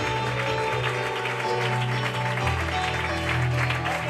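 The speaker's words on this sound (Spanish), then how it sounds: "Fuertes aplausos para Dios" A church congregation applauds loudly and continuously throughout, the steady clapping laid over sustained music from an organ or keyboard.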